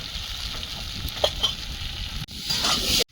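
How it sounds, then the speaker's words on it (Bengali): Spices with tomato, coriander, cumin and Kashmiri chilli powder sizzle loudly in a pan for tengra fish curry, with a steady frying hiss and occasional stirring scrapes close by. "একটু নেড়ে চেড়ে আর একটু কষিয়ে নিয়েছি"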